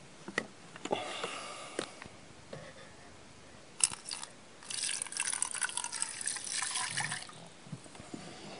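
Water trickling and dripping at first, then a steadier stream of pouring or running water for a few seconds, fairly quiet and close.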